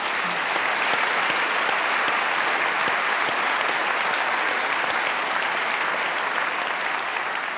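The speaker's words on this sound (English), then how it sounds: "Give yourselves a round of applause." Large university audience at a Q&A event with Bill Gates at the University of New South Wales breaks into dense, sustained applause, steady and loud throughout with no talk over it.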